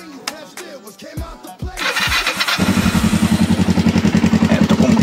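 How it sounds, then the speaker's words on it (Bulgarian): A Kawasaki motorcycle is started: a few cranking attempts and clunks, then the engine catches and settles into a loud, close, rhythmic idle that pulses steadily to the end. "И сега да покажем как пали."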